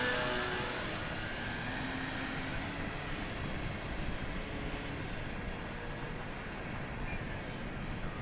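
An E-flite P-51 Mustang 1.2 RC airplane with a 2-blade propeller flies past, its electric motor producing a continuous loud whine and droning roar that fades slightly as it moves away, heard outdoors.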